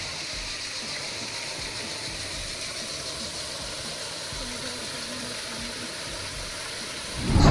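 Waterfall near Mersin, a broad, continuous rushing roar of falling water that stays steady and fairly loud throughout, with a brief louder burst at the end.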